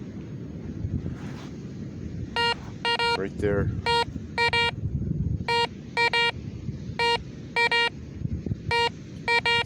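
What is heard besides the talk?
metal detector signal tone on the beach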